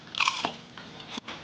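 Someone bites into crispy homemade fried chicken strips served with a sweet-salty honey and soy sauce: a near, loud crunchy bite followed by a few softer chewing crunches, with no talking.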